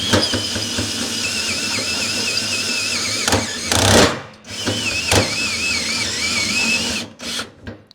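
A power drill whines steadily at close range while drilling a mounting hole, its pitch wavering as it bites, with brief pauses, bursts of grinding and a final stop-start rattle as it struggles through the last bit.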